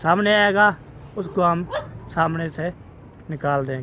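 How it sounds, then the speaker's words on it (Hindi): A dog barks and yips in short bursts nearby, overlapping with people talking close by. "आगे भी तो कुत्ता भौंक रहा है जी"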